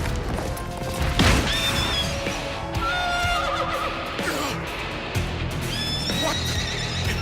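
Horse neighing in an anime battle scene, with several loud, shrill whinnies over crashes, thuds and hoof clatter, close and dramatic.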